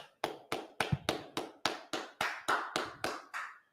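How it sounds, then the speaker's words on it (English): A class claps in unison, about twelve sharp, evenly spaced group claps in a steady rhythm, close and loud with nothing else over them. "Clap it up."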